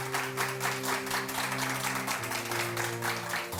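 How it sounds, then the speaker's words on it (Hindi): Studio audience clapping on a Pakistani morning talk show, a steady, fairly faint patter of applause running beneath a sustained musical tone. "तालियां बजा लें गुड, वेरी गुड।"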